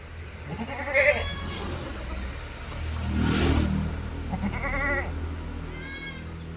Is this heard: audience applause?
no